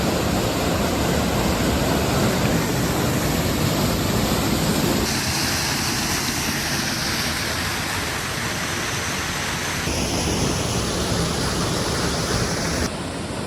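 Water plunges straight down in a tall falling waterfall, a dense, continuous rushing roar heard up close with no voices, the steady wash holding throughout apart from brief shifts.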